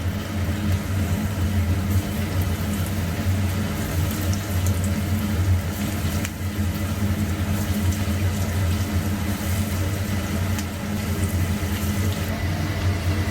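Finger millet pakoda fritters frying in hot oil, a loud, dense, continuous bubbling hiss that stays steady throughout with no talk over it.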